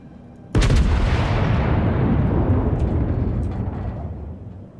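A warship's big guns fire in a naval video game, one sudden deep boom that rolls into a long rumbling decay lasting several seconds, loud and close.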